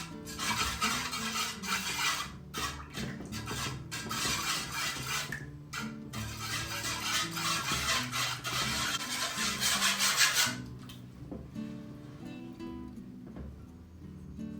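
Steady scraping and swishing as milk and salt are stirred together for byrek, loud and close, going on for about ten seconds before easing into quieter, softer stirring.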